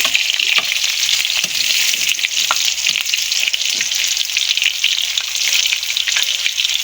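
Marinated chicken frying in oil gives a steady, loud, close sizzle with a dense crackling hiss throughout and occasional sharper pops and stirring clicks.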